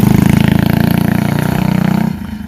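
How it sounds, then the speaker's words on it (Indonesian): A motorcycle rides past at night near a place reputed to be haunted in Indonesia, its steady mid-pitched engine drone loud and close before easing off near the end, with no talking. "ntar kalau ada suara motor lewat kok."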